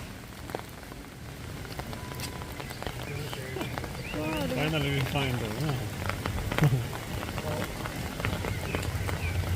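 Heavy rain pours steadily onto surfaces at a zoo in Amsterdam, with people talking briefly over the constant hiss of the downpour.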